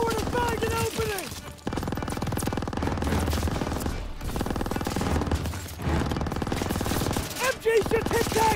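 Sustained machine gun fire in the Call of Duty WW2 video game, a dense rapid rattle of shots running for several seconds with brief breaks, mixed with shouted voices.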